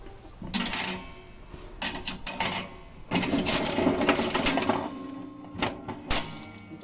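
A Trolls toy vending machine is cranked, giving loud mechanical ratcheting and clattering in several bursts, close up, with plastic capsules rattling inside.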